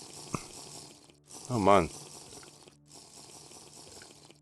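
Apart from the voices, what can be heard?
drinking water in the video game TerraFirmaCraft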